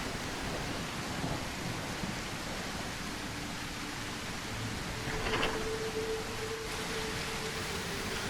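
A thunderstorm with steady rain in the dinosaur survival game The Isle Evrima, a constant broadband wash of downpour with a low rumble of thunder swelling midway, heard alone with no voices.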